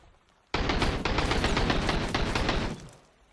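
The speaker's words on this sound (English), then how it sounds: "I think I'm shooting a tree." Rapid automatic gunfire in the Sunkenland survival game, a loud, dense burst of shots lasting about two seconds, with a short tail fading out after it.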